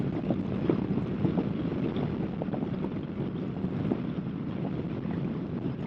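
Strong gusting wind at 50 to 60 km/h buffets a 2018 Kawasaki Vaquero motorcycle with a frame-mounted fairing, a steady broad roar with pulsing gusts throughout, loud and close, with no talk.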